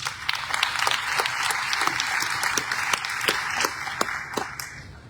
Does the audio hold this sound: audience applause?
yes